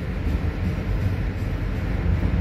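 A freight train rolls through Hamilton, Ohio, gathering speed: a steady, loud, low rumble of wheels and cars that holds without a break, with no talking.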